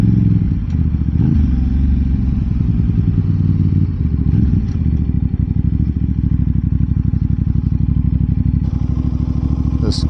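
A 2026 Aprilia RS 660 parallel-twin sport motorcycle rides along, with a loud, steady engine drone close by, a rapid pulsing beat and brief blips of clatter as gears change on the quick shifter.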